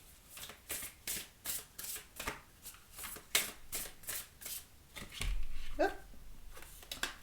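Tarot cards being shuffled in repeated rapid riffling bursts, close and crisp, with a soft thump and a few rustles toward the end.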